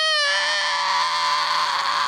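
A singer's voice carries compressed, sputtery distortion grit in a bright, sustained, raspy scream that holds steadily and loudly throughout.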